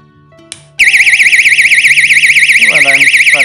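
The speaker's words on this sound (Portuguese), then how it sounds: "O alarme disparou." A simple camp tripwire alarm sounds: a faint click, then a loud, continuous warbling electronic siren that starts abruptly and keeps going, with a voice briefly speaking beneath it.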